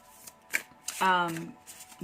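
A deck of Spellcaster oracle cards is shuffled up close in a brief riffle with a few quick taps and flutters, while a voice briefly talks over part of it.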